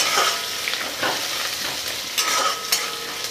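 Whole cumin and five-spice seeds frying in hot oil, a bright, dense sizzle and crackle that continues throughout, with occasional stirring scrapes, close and loud.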